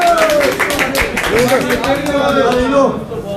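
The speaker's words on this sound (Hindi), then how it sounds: "तमाम दोस्त तालियों का एहतमाम करें।" Applause breaks out at an election-results ceremony in Pattoki as officials are garlanded. Steady clapping from a gathered crowd runs throughout, with voices talking over it.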